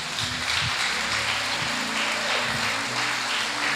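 Congregation applauding at a men's church congress, a steady wash of clapping that fills the whole clip with low sustained music or hum underneath.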